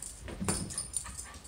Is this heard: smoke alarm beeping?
no